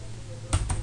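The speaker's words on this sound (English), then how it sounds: "type the name of certificate" Two quick keystrokes tap on a computer keyboard near the end of a short, quiet moment while a certificate name is typed, close and clear.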